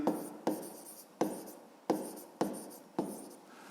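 Pen strokes scratch across paper during a fifth-grade maths exercise, six short bursts in a steady rhythm, each starting with a sharp onset and trailing off, close and fairly quiet with no talk.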